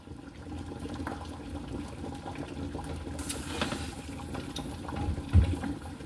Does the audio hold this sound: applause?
no